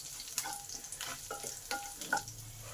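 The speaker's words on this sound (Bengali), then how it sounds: "হিংটাকেও একটু ভালো করে ভেজে নেব" A quarter teaspoon of asafoetida frying in oil with green chilli and nigella seeds, a faint quiet sizzle broken by light scattered crackles and a few stirring scrapes, close by with no voices.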